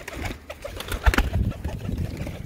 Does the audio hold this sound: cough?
no